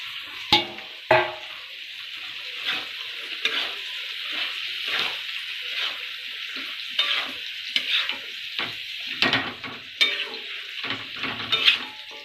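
Drumstick stems go into frying masala and are stirred, a steady sizzle under rhythmic scraping of a spatula against the pan, with sharp metallic knocks and clinks at intervals.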